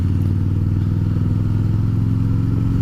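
Harley-Davidson Fat Boy with a big 338 Nm V-twin rumbles at low revs in second gear, its deep, loping exhaust pulse steady and loud throughout with no voices.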